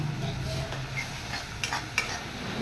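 Onion masala frying with Kashmiri chilli powder in oil for egg rezala, continuous close stirring and gentle sizzle, with a couple of sharper scrape clicks from the spoon against the pan.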